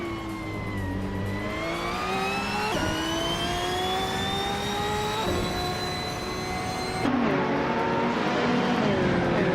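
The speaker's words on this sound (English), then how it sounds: "Smart A is driving a 2018 Ferrari 488 GTE" A 2018 Ferrari 488 GTE race car in a racing video game, its engine whining loudly and steadily as the pitch climbs and drops through gear changes, with a harsher surge near the end.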